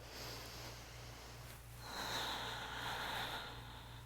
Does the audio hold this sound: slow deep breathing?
yes